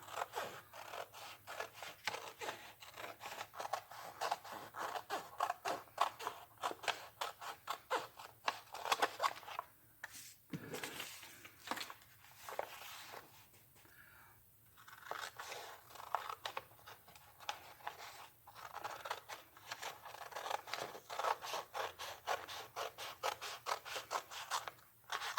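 Scissors snip through fabric glued onto paper while excess is trimmed away, a close, quiet run of rapid rhythmic cuts with a brief pause partway through before the snipping resumes.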